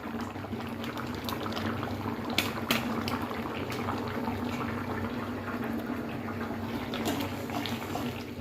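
A vegetable and egg curry simmers in a pot, a continuous close bubbling and gurgling with occasional louder pops.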